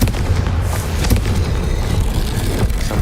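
In Hogwarts Legacy, a Confringo blasting spell explodes with a loud, sustained rumbling roar, dense low booms and crackling debris filling the whole stretch without a pause or any voices.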